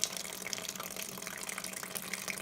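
Homebrewed Citra pale ale wort running clear from the brewing vessel, a steady close pouring and trickling of liquid with a continuous splashy hiss and no talking.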